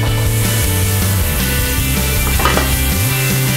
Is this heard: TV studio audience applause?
no